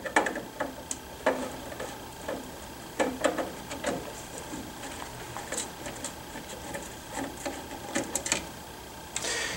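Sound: removing screws from back panel of ITM 509

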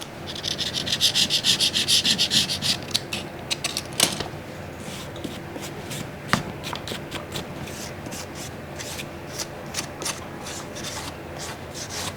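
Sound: scraping dust and debris off an iPad Air 3 body

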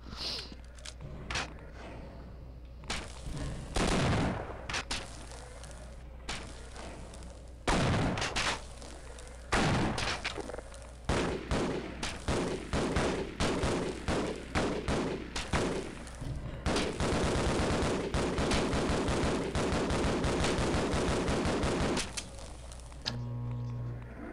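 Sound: gunfire in the video game Half-Life

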